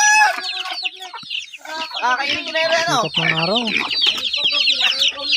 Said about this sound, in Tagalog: grabe mga manok dito. Ang dami guys